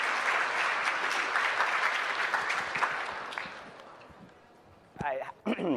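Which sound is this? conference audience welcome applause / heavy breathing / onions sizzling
conference audience welcome applause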